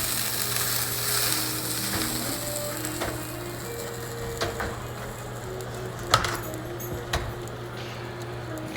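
Meat, with bacon, goes into a pot of Zuppa Toscana with potatoes and kale, setting off a steady close sizzle with a low hum and a few scattered clicks and knocks from the pot, no voices.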